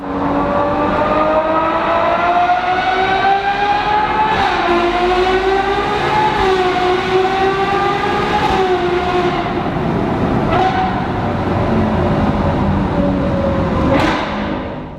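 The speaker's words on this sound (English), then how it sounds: "The V12 engine in this sounds absolutely incredible." A Ferrari's naturally aspirated 789-horsepower V12 wails loudly at high revs, its pitch climbing and falling through several gear changes, with a sharp rising howl near the end.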